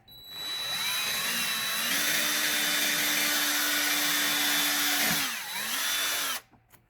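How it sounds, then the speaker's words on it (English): A power drill bores a hole into a Furby toy's shell, a loud steady whine running several seconds with brief pitch dips, then stopping abruptly. "So we're going to drill out right here."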